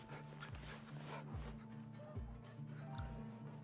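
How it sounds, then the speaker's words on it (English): A dog barks several times in a PC horror survival game set in a snowy wilderness, sharp separate barks over a steady low engine-like hum with background voice-like sound. "you really have a powerful bark"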